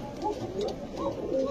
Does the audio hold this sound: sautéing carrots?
no